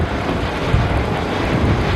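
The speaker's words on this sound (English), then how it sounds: "HAL is extremely proud to present here in display its youngest and latest member of the growing helicopter family." HAL Light Utility Helicopter flying a display at the Bengaluru air show in 2023, heard as a steady, loud engine-and-rotor roar with wind-like rumble that holds constant throughout, with no talking.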